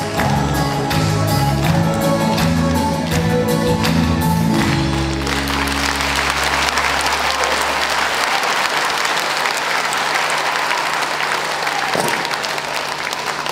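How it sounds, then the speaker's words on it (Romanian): Concert audience applause follows the end of a song as the music fades; steady, dense clapping continues for several seconds, loud and close, with no talk. "nu mă răscățați tare cu aplauze"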